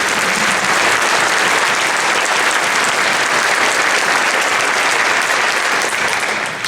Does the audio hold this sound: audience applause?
yes